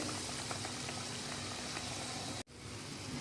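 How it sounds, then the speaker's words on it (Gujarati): Homemade ghee made from cream bubbling in a hot pan, a dense, even fizzing and popping of tiny bubbles that cuts out abruptly for a moment before resuming. "જ્યાં સુધી ગરમ છે ત્યાં સુધી આ નાની નાની ધુપકીઓ થશે"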